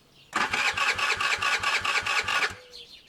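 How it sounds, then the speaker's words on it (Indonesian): A motorcycle engine is cranked for a morning warm-up with a loud, close run of fast rhythmic starter pulses lasting about two seconds, then it cuts off abruptly into quiet. "Setio memanasi dulu sepeda motornya sebelum berangkat."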